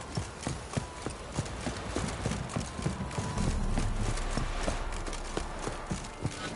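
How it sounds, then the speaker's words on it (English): Horse hooves clip-clopping in The Witcher 3, a steady run of distinct hoof strikes at a moderate distance, with a low rumble of movement building midway and a faint whinny possible. "Time to water the horses."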